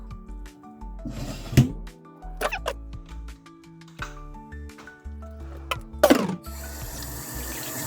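Running tap water splashing over tilapia pieces being washed in a sink, with intermittent gushes and clatter rising and falling, close by and without talk.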